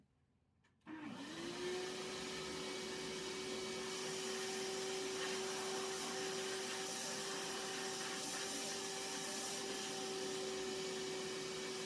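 A shop vacuum switches on after a second of quiet and sucks wood chips out of a freshly cut mortise, its steady high whine and airy rush continuing loud and unbroken to the end.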